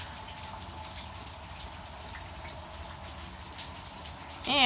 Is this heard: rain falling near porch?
yes